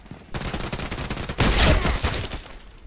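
Gunfire from a KelTec KSG pump shotgun in the shooter game Contract Wars: a string of sharp shots crackles closely, then a louder, denser burst of firing comes midway before it tapers off.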